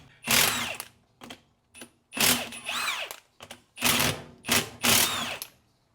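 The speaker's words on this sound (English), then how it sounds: "So now I'll go along, undo all these bolts," A power tool zips out the bolts on the front differential of a Toyota Prado 150 during a locker install, in short whirring bursts separated by brief pauses, close and fairly loud.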